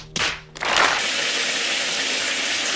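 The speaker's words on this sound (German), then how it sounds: "dass ich jetzt erstmal duschen gehe" Shower water bursts on after a short clunk, then runs steadily as a loud, even hiss filling the room, with no one talking.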